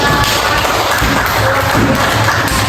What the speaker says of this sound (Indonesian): Baik, kasih tepuk tangan untuk Raka.